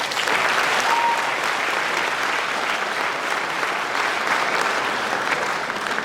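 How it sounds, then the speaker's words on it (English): A large audience at a university chancellor's inauguration ceremony applauds steadily, a dense, even wash of clapping that holds at full strength for the whole span. "Another round of applause for family."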